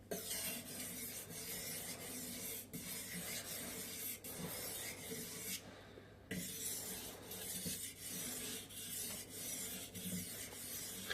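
A knife blade is drawn repeatedly across a sharpening stone along its full length, making close, steady rasping strokes that run in a continuous rhythm with one brief pause midway.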